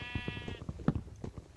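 A sheep in a survival video game gives a single bleat near the start, followed by scattered thuds and clicks of in-game actions.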